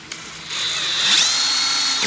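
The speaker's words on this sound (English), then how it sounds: "So I'm going to double the size of the hole by using this drill bit." A power drill whines loudly and steadily for about two seconds as a drill bit enlarges a hole for aquaponic tubing, close and with no talk.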